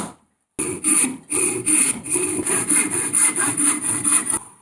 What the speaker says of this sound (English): let's start by sawing this thing off.